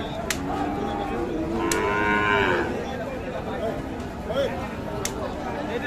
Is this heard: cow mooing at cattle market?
yes